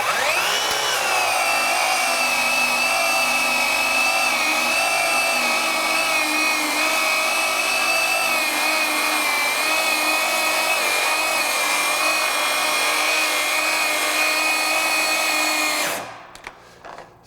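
A Craftsman V20 or Ryobi 18V One+ brushless 7-1/4-inch circular saw with a worn aftermarket blade drones through a long continuous cut at a steady high whine, then spins down abruptly at the end.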